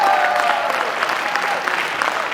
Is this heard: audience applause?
yes